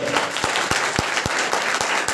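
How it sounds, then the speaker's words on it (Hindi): Church congregation at an anniversary service claps in unison, sharp regular claps on a brisk steady beat, loud and close, with no talking over them. "अपना वाला ताली बजाइए, किराए वाला ताली है तो जोरदार ताली बजाइए"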